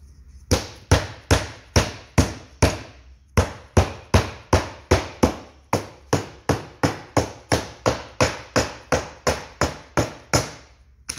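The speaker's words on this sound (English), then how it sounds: "We use our hammer, tap it into place a couple more times." A hammer taps wooden pieces of 1x4 boards into place on a turned salad bowl project, a long run of sharp, evenly spaced knocks with a short pause, loud and close, no talking.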